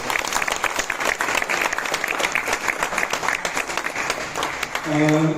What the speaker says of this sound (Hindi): बहुत जोरदार तालियों के साथ स्वागत कीजिए गुरबख्श सिंह संधू साहब का